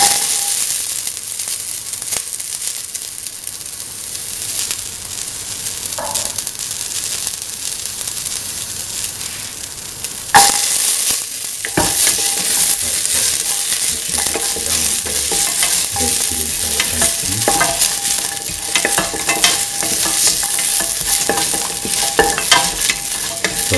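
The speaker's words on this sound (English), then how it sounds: "put in the shallots" Shallots sizzle and crackle as they fry in hot oil for a lentil and snake gourd stew, with stirring scrapes and a louder burst of frying partway through; steady and close, no talk.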